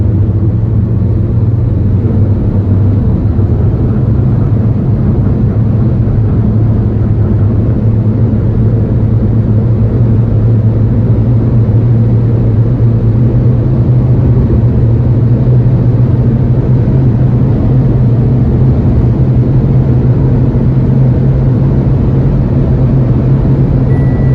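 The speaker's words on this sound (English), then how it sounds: "We're taking a long sweeping corner, the car is holding its line perfectly" A Renault Duster diesel with an automated manual gearbox drones steadily through a long sweeping corner, its engine and road rumble loud, close and unbroken inside the cabin, with no talk over it.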